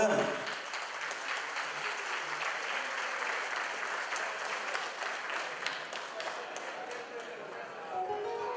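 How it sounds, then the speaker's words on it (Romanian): Wedding guests applauding a couple's waltz, a full, continuous round of clapping from a crowd in a reception hall, with voices and music faintly underneath. "Haideți să-i aplaudăm!"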